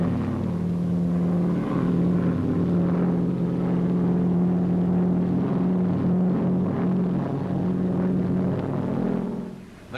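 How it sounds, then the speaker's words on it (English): An Auster Aiglet light propeller aircraft drones steadily at the 1953 Farnborough Air Show, a continuous low buzz with a constant pitch, fairly close, then fading slightly at the end. "The Auster Aiglet, the light aircraft par excellence."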